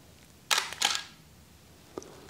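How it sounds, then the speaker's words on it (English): A single-lens reflex camera on a tripod fires, with the mirror flipping up and the shutter snapping as a quick pair of sharp mechanical clacks, followed by a softer click a second later, close and otherwise quiet. "So this is going to record the mirror coming up and the shutter firing at the same time."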